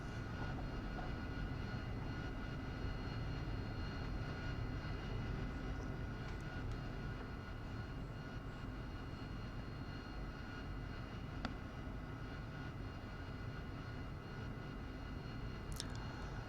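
An AV-8B Harrier jet taxis in the DCS World flight simulator, giving a steady, unbroken engine drone and roar that holds level throughout with no voices.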